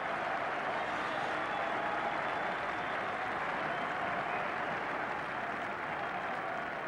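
Rugby crowd at a 1987 Yorkshire versus Middlesex match, a broad steady roar of cheering and applause that holds evenly throughout.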